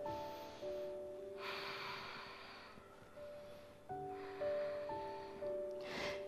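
Heavy breathing after a yoga exercise: slow, deep, audible inhales and exhales alternate close to the listener over a faint steady background tone.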